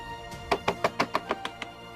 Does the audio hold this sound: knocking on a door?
yes